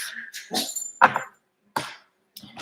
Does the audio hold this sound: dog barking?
yes